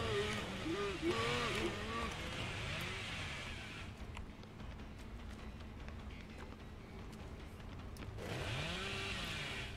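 A chainsaw revs in Dead by Daylight, a buzzing, wavering engine whine that surges at the start and again near the end, with a quieter rumbling stretch in between and background game noise.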